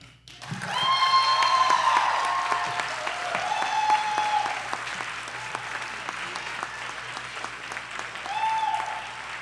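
Audience applause at a Cleveland People's Budget debate, a sustained crowd clapping that rises quickly and holds, with a few whistles or cheers cutting through and a speaker's voice faintly underneath.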